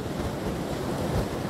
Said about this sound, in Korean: 지금 파도도 굉장히 거칠고 또 바람 소리도 굉장히 강하게 들리고 있는데요